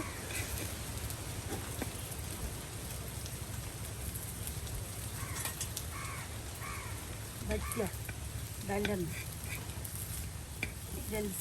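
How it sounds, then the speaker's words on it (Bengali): Pumpkin flower and leaf lentil fritters deep-frying in oil in an outdoor kitchen, with a steady dense sizzle throughout, a few crow caws, and a voice partly under the frying. "একদম সুন্দর করে মচমচে বেজে নেওয়া হচ্ছে কুমড়ো ফুলে সাথে পাতা দিয়ে ডাল দিয়ে"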